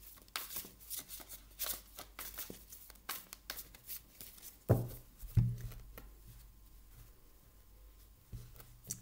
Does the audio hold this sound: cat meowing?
no